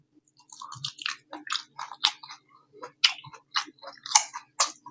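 Someone chews Bengali fermented rice (panta bhat) close to the mic, giving a series of soft, wet, squishy bites and mouth sounds at an uneven rhythm, with no talking.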